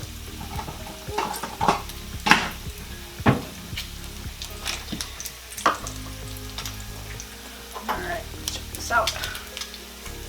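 Pancakes from a mix frying in a hot pan for a bacon and chocolate chip pancake breakfast, with steady sizzling and sharp spitting spatters, clattering stirring and scraping bursts throughout, and a brief spoken word.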